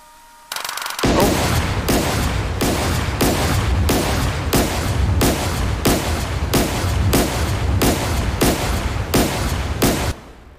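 Naval gunfire from a warship in the combat simulator DCS World, about a dozen loud, evenly spaced heavy gun blasts repeating roughly every 0.7 seconds, each with a rumbling tail, with no voices.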